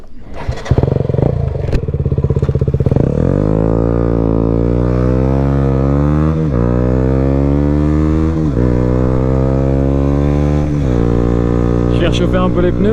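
A 2011 KTM Duke 125 motorcycle with an Akrapovic exhaust, no dB killer and a LeoVince decat pipe, riding up a mountain pass: loud, close engine revving up through the gears with sharp shifts and crackles, voices faint underneath.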